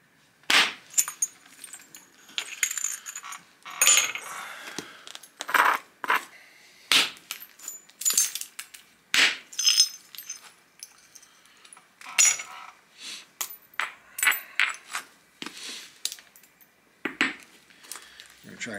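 A stone is bifaced into a disc by flintknapping, with a string of sharp, bright clacks of strike on stone in irregular bursts over a quiet background, close and loud.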